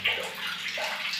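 Water runs steadily from a household tap freshly fitted with a new spindle, a continuous hissing flow throughout with no talk.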